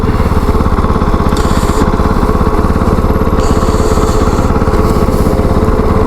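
A KOVE 450 Rally motorcycle engine runs steadily while being ridden, a loud, close, continuous single-cylinder drone with a fast pulsing beat and no speech.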